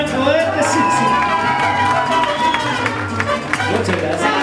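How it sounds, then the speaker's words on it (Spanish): At a quinceañera party with a youth mariachi band, the crowd applauds and cheers loudly, clapping mixed with shouts, whoops and children's voices, dense and close throughout. "Ese aplauso bien fuerte"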